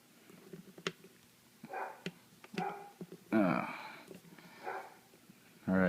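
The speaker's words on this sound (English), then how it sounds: "listen to my neighbor's dog first while I get him set up" A dog barks a few times at a distance, the sharp barks separated by pauses, with a faint voice in the background.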